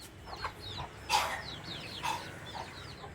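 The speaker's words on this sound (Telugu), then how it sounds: "ఈ కోళ్ళు కూడా తమ ఆహార అన్వేషణ కోసం తిరుగుతూ ఉంటాయి ఆటికి" Chickens wander and forage on a small city farm, giving a few short, quiet clucks and soft calls spread across a few seconds over a faint outdoor background.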